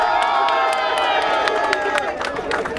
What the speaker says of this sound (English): we have to give them a round of applause